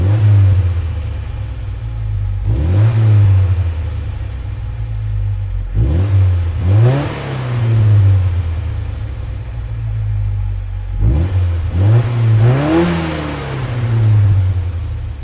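An Alfa Romeo Sprint GT Veloce engine in Gran Turismo 7, idling with a steady low rumble and then revved sharply three times, each pitch climbing and falling back, close and loud with no talking.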